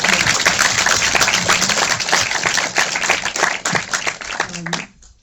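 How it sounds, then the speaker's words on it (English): Audience at a film Q&A applauding the cast of King Richard, loud sustained clapping with some voices and cheers mixed in before it cuts off near the end. "let's give them a round of applause"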